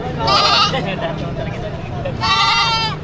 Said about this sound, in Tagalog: Pinagbibili ni kuya itong kambing na ito.